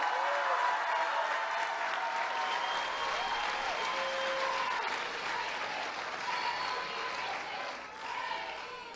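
A large crowd at a public housing event in Matamoros, Tamaulipas, applauds President López Obrador, sustained broad clapping with some cheering that stays loud throughout and eases slightly near the end.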